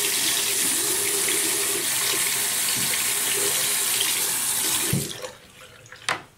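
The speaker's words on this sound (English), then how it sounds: "And I'm gonna run some water here." Water runs steadily from a bathroom tap into a sink during a shaving routine, a loud continuous rush that cuts off near the end, followed by a couple of small knocks.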